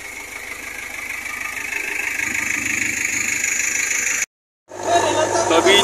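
A JCB excavator's engine runs steadily while clearing a landslide-blocked mountain road in Uttarakhand, a close, rumbling idle with faint knocking, briefly cut off near the end, with voices in the background.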